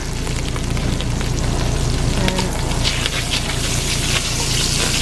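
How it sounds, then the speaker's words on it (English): Butter melting in a hot pan while cooking dinner from scratch, ahead of adding shallots, gives a steady dense crackle and sizzle close up, with a constant low hum running underneath and nobody speaking. "I'm going to melt 2 tablespoons of butter"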